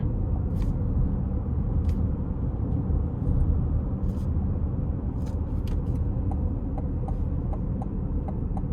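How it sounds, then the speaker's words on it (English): A 2025 Chevy Blazer EV LT Midnight, front-wheel drive, pulls onto an interstate in sport mode, heard as a steady low cabin rumble of tires and road with faint ticks and clicks scattered over it, no engine note. "I'm gonna make sure it's in sport mode before I give it a pull getting on the interstate."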